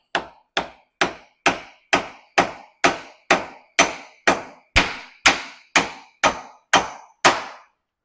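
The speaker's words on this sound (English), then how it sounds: "Try with a dead blow first so we don't damage the shaft." A dead blow hammer strikes the rear drum brake arm on the shaft of a Yamaha TTR125 motorcycle, giving about fourteen loud, sharp, evenly spaced taps close by with short decays and no talking.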